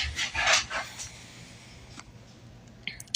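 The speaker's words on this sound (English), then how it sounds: "Sorry for my dog." A dog indoors lets out a few quick, muffled barks in the first second, followed by quiet room tone with faint small knocks.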